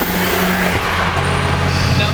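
Turbocharged 2.0 VW Jetta with coilover suspension droning steadily from inside the cabin, the engine note shifting as it pulls, with a faint high turbo whine and a voice talking over it.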